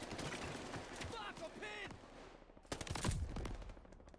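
Gunfire in the shooter game Call of Duty: Vanguard, a quick rattle of shots and bursts under in-game voices and background noise, with a louder burst cluster toward the end.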